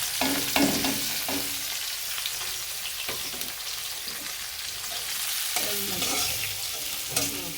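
Onions and green chillies frying in oil while being stirred, a steady loud sizzle with repeated scraping stir strokes throughout, no talking, while fish is cooked with aubergine and beans.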